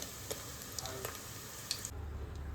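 Soft, steady sizzle of paneer cubes frying in hot oil for a biryani, faint and close, with a few light clicks and taps from stirring.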